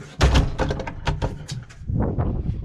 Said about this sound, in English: Close the screen door.